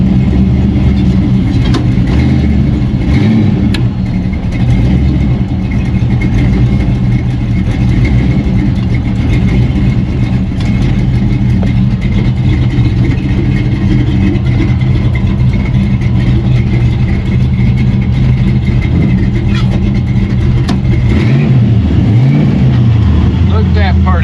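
An old car motor with a loose 2800 stall converter rumbles loudly and steadily at close range, a thick low idle that carries through the whole stretch with slight swells, while voices talk over it.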